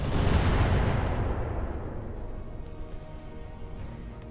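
Heavy cannon fire in the mech game Roguetech from a Gulf Faxi's sniper cannon: a loud, deep boom up front that rolls off into a long rumbling decay lasting several seconds.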